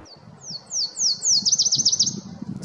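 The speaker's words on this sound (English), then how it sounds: "Right now we're seeing a lot of ruby-crowned kinglet flocks coming through, a lot of white-crowned sparrow flocks, and yellow-rumped warblers." Ruby-crowned kinglet, white-crowned sparrow and yellow-rumped warbler flocks in British Columbia during autumn migration: thin, high, slurred call notes repeat several times, then break into a quick rapid trill, moderately near over soft outdoor background noise.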